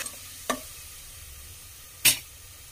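Spices fry in a cooking pot. Two short, sharp sizzling bursts break an otherwise quiet background: a small one early and a louder hiss near the end.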